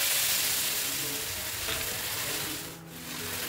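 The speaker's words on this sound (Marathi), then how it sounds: "आता तवा गरम करून आपल्याला तेल लावून घ्यायचं आहे व्यवस्थित आणि आपल्याला हे बॅटर तव्यावरती सोडून द्यायचं आहे" Jowar dosa batter sizzles on a hot oiled tawa with a loud, continuous hiss that dips briefly near the end, close up and alone.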